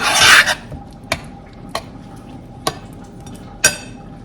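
Honey is mixed into the ingredients for einkorn banana bread, starting with a loud scraping rub, followed by four separate sharp scrapes or clinks of a utensil against the bowl, spaced about a second apart.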